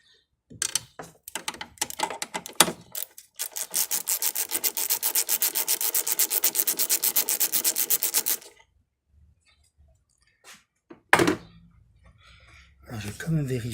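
A tool works loose a screw on a car's fuel filter with a fast, even run of close ratcheting clicks lasting several seconds, preceded by scattered scrapes and knocks, followed by a few more metallic taps.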